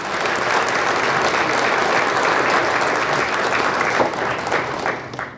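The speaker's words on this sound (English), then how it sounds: "How about a round of applause for the PFFW Honor Guard" An audience at a fire department award ceremony gives the PFFW Honor Guard a loud, sustained round of applause, dense and even, fading slightly toward the end.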